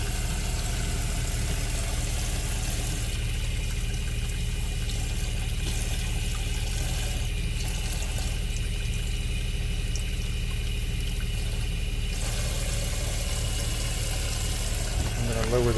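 Hot water runs steadily from a newly installed tankless water heater in a LiV 201QB, a constant rushing flow that continues unbroken from start to finish at moderate level.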